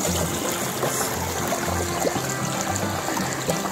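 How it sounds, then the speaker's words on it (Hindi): Water trickling and flowing steadily in a village stream, a continuous close babble with no talking over it. "ये देखें पानी, आवाज़ सुन सकते हैं आप लोग पानी की"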